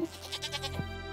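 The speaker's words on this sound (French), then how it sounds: "Ah, mais j'ai un mouton!" A sheep bleats in the Stardew Valley farming game, a short wavering cry standing out clearly against a soft, steady game background with no speech.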